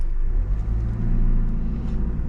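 A car pulls away gently during a driving-test practice lesson, with a low, steady engine rumble that lifts slightly as it moves off.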